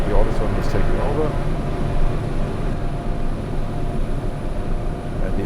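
A Pilatus PC-12 NGX turboprop takes off, its engine a steady, loud broadband roar heard from inside the cockpit, with a voice talking over it.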